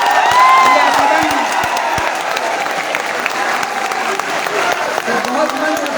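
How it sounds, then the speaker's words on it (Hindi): A large audience at a poetry gathering of a kavi sammelan and mushaira at BHU claps loudly and continuously with some cheering, with a voice speaking over the applause. "एक बार जोरदार तालियां भारत के लिए।"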